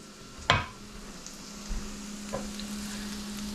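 Butter melting in a pan with shrimp for oyster sauce and butter noodles: a steady close sizzle with a sharp clack of a utensil at the start and a couple of soft knocks.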